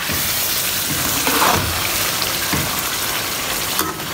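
Sudden rain falls steadily outdoors, a dense continuous hiss of drops with a few louder splashes, fairly faint and even throughout, no voices.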